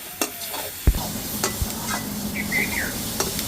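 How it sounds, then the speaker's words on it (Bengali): Spice paste for a mustard rohu fish curry is stir-fried in a pan, with steady scraping and stirring, a few sharp utensil clinks against the pan, and a low sizzle running underneath, heard up close. "মশলাটা আমরা লাল লাল করে কষিয়ে নেব"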